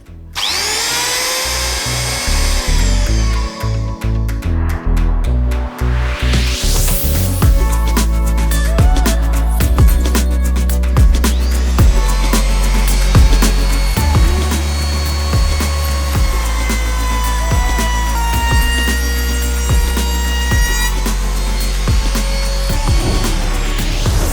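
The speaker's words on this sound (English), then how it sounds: "This is our latest battery-powered multicutter" A Bosch GOP18V-34 battery-powered oscillating multicutter whirs loudly and continuously, starting and revving up before settling into a sustained buzzing drone with rattling undertones, close by.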